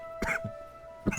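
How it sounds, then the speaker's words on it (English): A person coughs twice, with short, sharp bursts and a faint throaty sound between them, fairly quiet over a steady background tone. "Did I just cough into a hiccup?"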